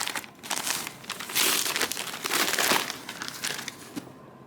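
Paper and tape crinkle, crunch and tear as a heavily taped book package is wrestled open, a continuous close rustling with louder ripping bursts, quiet overall and without talking.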